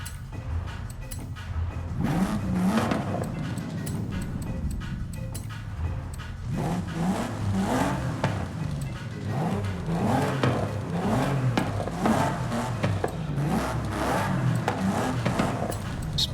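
Flat-four turbocharged rally engine in Forza Horizon 5, droning and revving continuously with wavering pitch rises and dips, close and loud throughout, alone without voices.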